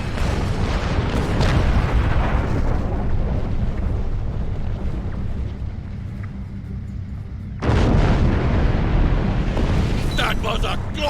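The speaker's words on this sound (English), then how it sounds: "That was a glorious explosion!" A starship blows up in the space game Star Trek Online, a loud sustained roaring blast rumble that dips briefly then surges again with fresh booming bursts, no talk over it.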